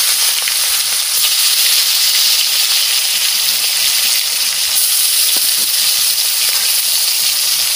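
Fish rubbed with salt and turmeric frying in hot oil, a steady, loud, close hiss and sizzle with faint crackles throughout.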